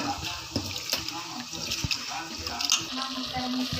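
Water splashes and trickles close by as rice and roasted moong dal are washed together in a vessel. The sloshing is continuous and moderately loud.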